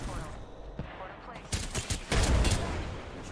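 Gunfire in the Apex Legends video game, likely including a Kraber sniper: scattered sharp shots and a dense burst of firing about two seconds in, over background game ambience, with players talking.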